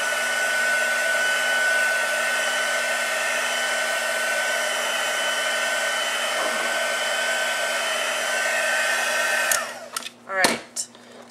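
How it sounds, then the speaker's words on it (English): A heat tool blasts a steady, loud airflow over white watercolor paint to dry it, running alone for about nine seconds before cutting off, followed by a few brief clicks and handling noises. "I'm going to hit it with my heat tool"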